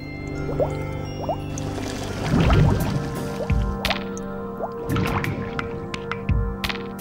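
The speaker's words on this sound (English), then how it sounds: "Water that was only warm started to boil." Bubbling and gurgling of warm water boiling in a vacuum, irregular bursts and pops, several louder surges among faint drips and low hum.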